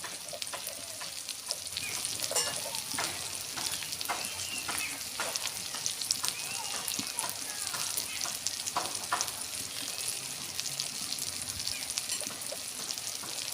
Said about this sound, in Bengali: পেঁয়াজটা দিয়ে আমার কিছুক্ষণ ভাজা হয়ে গেছে